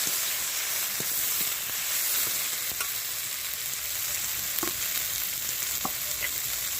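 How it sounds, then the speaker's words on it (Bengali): Chicken curry frying in a pan and being stirred, a continuous moderate sizzle broken by scattered light scrapes and taps of a spoon against the pan, with no one speaking. "ভালো করে কিন্তু নেড়ে করে নিই।"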